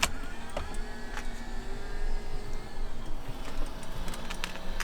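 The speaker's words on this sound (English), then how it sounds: "we also have some electric tables, so if I press these buttons here, they should begin to fold out" A steady electric motor whirs continuously as a luxury car's electric tables fold out, with faint clicks and clunks; no voices.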